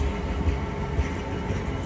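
Class 66 locomotive 66051 in Maritime livery at Didcot Parkway, a steady low diesel rumble with rail noise, close and continuous, slowing for a signal.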